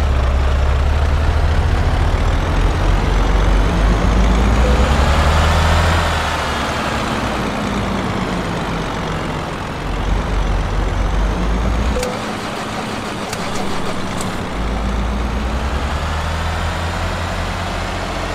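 Engine of a Ford Cargo truck in the Euro Truck Simulator 2 video game, a loud steady low diesel drone that drops in level partway through and then holds, with no talk over it.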